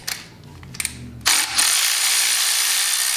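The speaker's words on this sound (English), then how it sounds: "Go ahead and loosen the pickup tube bolt." A ratchet loosening the oil pump pickup tube bolt on a supercharged 6.0 LQ9 LS engine during disassembly, starting with a few quiet clicks, then a loud, steady ratcheting buzz close by.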